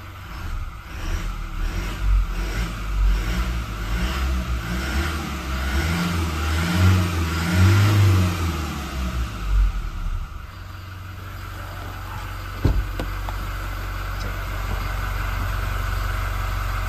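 A Toyota Innova Reborn 2.4 G diesel is revved repeatedly from idle, the engine rising and falling in several close, loud pulses for about ten seconds before settling back to a steady idle hum, with no talking.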